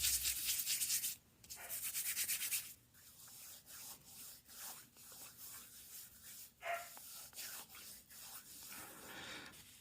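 Coconut oil being rubbed slowly into facial skin outdoors in cold, windy blizzard weather, heard as close, soft, repeated rubbing strokes with brief pauses and no talking.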